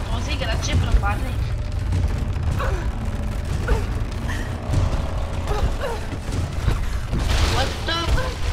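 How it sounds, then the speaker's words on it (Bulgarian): A collapsing town in Tomb Raider: low rumbling and creaking mechanical noise runs throughout, with scattered clanks and groans, while a person talks over it. "Мисля, че този град пропада."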